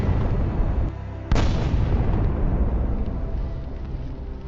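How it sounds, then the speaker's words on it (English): Javelin missile striking a Russian armored vehicle, a single sharp blast cutting through loud, continuous low rumble that fades slowly afterward, with no voices. "Then the javelin destroys another Russian armored vehicle."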